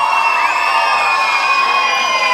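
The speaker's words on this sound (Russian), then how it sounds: "аплодисменты!" An audience at a folk dance competition in Minsk cheers and applauds loudly and steadily, with whoops and shouts, up close and without a break.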